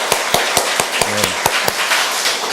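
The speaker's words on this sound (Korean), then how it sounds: "다시 한번 격려 박수 하겠습니다." A church congregation at a Sunday service claps in unison, giving sharp, evenly spaced claps at a brisk steady beat, with a brief vocal tone sounding partway through.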